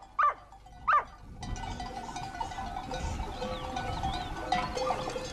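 Two sharp barks from a sheepdog herding sheep, then a busy pasture scene with sheep bleating and faint livestock noise at a distance.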